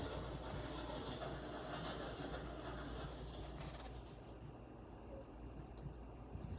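A train runs along rails in the Minecraft video game, a faint continuous rumbling drone with light rhythmic clatter from the wheels, steady throughout and slightly quieter toward the end.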